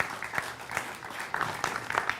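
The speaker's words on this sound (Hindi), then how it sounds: "तालियां एक बार" Audience applause at a Hindi poets' gathering on political satire: a short, fairly faint patter of clapping with a few louder bursts, no voices over it.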